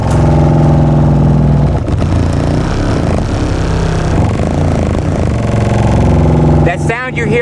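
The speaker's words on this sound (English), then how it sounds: "That sound you're hearing right there is a trunk." A car trunk rattles and buzzes under a loud bass-heavy audio system with high amperage, a thick continuous low rumble with harsh vibrating overtones that swells and breaks up near the end.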